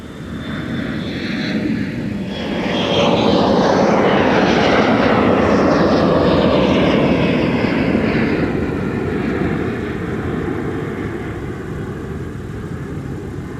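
An Air Shuttle airliner takes off at MSP airport: a loud, broad jet roar that swells to a peak at mid-clip and then holds as a sustained rumble while the aircraft climbs away.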